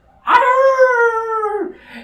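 A person howls like a dog, a single drawn-out, loud wavering cry holding steady for over a second before dropping off, close and alone, imitating a canine howl.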